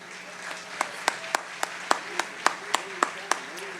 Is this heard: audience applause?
yes